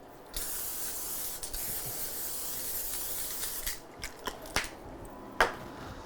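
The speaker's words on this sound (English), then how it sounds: "I do have cooking spray here, and it is canola." Canola cooking spray hisses from a can into a 10-inch cast iron frying pan in one long continuous burst, close and clear, followed by a few small clicks and taps.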